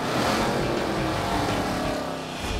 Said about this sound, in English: hear the roar of an 800 horsepower engine.